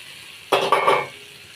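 Fried pointed gourd pieces dropped into a well-cooked spice paste hit the hot pan with a sudden loud sizzle and a clink of utensil, the hiss surging twice and then fading away within a second.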